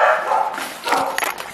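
Dogs bark and yip in quick, close bursts, a few sharp barks mixed with whiny yelps.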